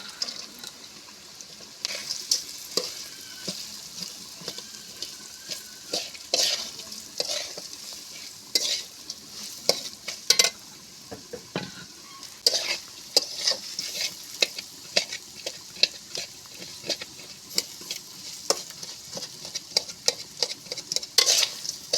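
Red lentils with a cooked spice paste are stirred and fried in a pan with jute leaves, a spatula scraping in irregular strokes over a continuous low sizzle, with occasional louder knocks and clinks.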